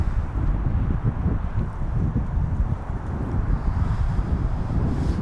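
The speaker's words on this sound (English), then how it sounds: "It's not cold actually. It's just windy." Strong wind blows outdoors, buffeting the microphone with a loud, continuous rumbling roar and no other clear sounds.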